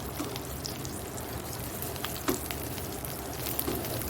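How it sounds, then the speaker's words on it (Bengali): Pointed gourd slices frying in a pan give a steady low crackle and sizzle throughout, with a few faint utensil taps, close and moderately quiet with no talk. "এবার এই পটলটা ভেজে নিচ্ছি আর একটু আলুটাও ভেজে নেব"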